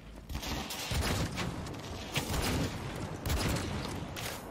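Repeated volleys of automatic gunfire in Cyberpunk 2077 come in several close, punchy bursts separated by brief pauses, with a mechanical clatter between them.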